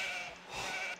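Sheep bleat in an Age of Empires match, a fairly faint, wavering animal cry lasting about a second among soft game sounds.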